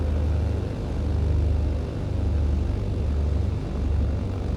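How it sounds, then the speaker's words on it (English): An airplane engine drones steadily as the aircraft taxis in Microsoft Flight Simulator 2020, a loud, continuous low rumble with no voices over it. "airplane is moving"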